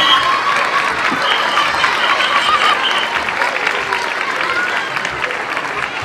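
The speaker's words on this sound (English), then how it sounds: "Give a nice round of applause to Mr. Majak." Audience applause fills a school gym at a first-grade primary school program, steady dense clapping with some crowd murmur lasting throughout, loud and continuous.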